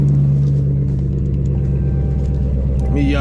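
A Chrysler 300 idles with a steady low engine rumble close by, a slight rise in revs near the end, while someone talks over it.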